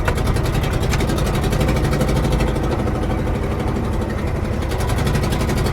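A 1981 Chevy LUV service truck climbing a steep hill, its engine running at raised RPM with a steady, close, loud mechanical drone and a rapid rhythmic pulsing throughout, no talking.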